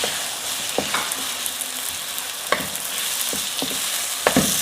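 Chickpeas sizzle and fry in a masala of onion, garlic and crushed red chilli, a steady close crackle broken by occasional sharp stirring clicks.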